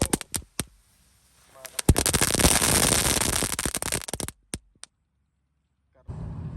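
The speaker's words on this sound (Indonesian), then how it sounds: "kita nyalakan dulu ini pretekannya 1 pak guys" A whole pack of colourful firecrackers goes off, a few sharp pops leading into a dense, loud crackling barrage lasting a couple of seconds, followed by scattered last bangs.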